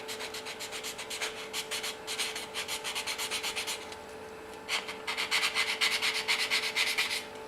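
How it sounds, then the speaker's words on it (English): Sandpaper rubs back and forth on a small flamed maple guitar pick, with steady rhythmic strokes up close, a brief pause, and then faster, harder passes. "A bit of sandpaper."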